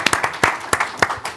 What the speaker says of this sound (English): Round of applause for Rob.